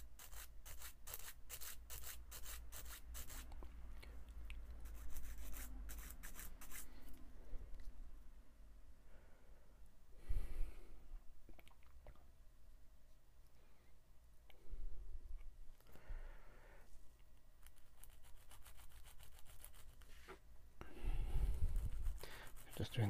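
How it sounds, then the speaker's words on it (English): Soft, steady rubbing and scraping of sandpaper flattening a small part of a 1:1700 Bandai plastic model kit, continuing in bursts with brief pauses, close and fairly quiet. "just sanding this flat."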